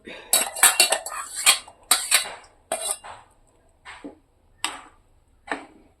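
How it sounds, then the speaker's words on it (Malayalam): A spoon stirs thick yogurt kalan curry in a pot, giving a run of close metallic scrapes and clinks that come quickly at first, then thin out into a few separate knocks. "ഇനി ഇത് ഇളക്കി ഇളക്കി ഇളക്കി ഇളക്കി കുറുകട്ടെ"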